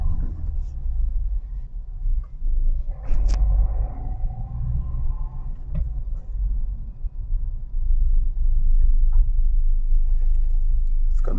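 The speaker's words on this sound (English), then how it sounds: "We've got massive traffic here." Heavy road traffic in a busy provincial street, a steady loud low rumble of car engines and tyres with vehicles passing continuously nearby, no talking.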